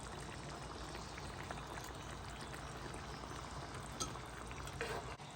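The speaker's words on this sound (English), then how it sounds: "I'm going to turn this down to low and let it just simmer while I'm cooking my noodles" Beef stroganoff sauce simmers on low heat in a pan, a steady soft bubbling and faint sizzle running evenly throughout with a couple of small clinks near the end.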